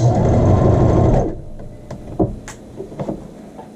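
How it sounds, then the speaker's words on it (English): A sewing machine back-stitches the facing on a child's shirt, running in a loud steady whir for about a second, then stopping and leaving scattered soft clicks and handling noises. "Let's start with a little bit of a back stitch."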